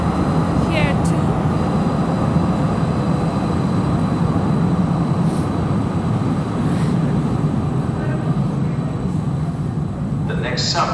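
A Calgary CTrain light rail train approaches a station in extreme cold at -30°C, a steady loud rumble and rolling drone filling the whole stretch, with faint higher squeals and a station announcement tone.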